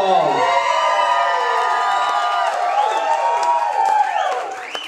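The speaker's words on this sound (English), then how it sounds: "Big round of applause." Wedding reception guests whoop and cheer loudly in a dense crowd, high shouts and whistles rising over continuous clapping, held strong throughout before easing at the end.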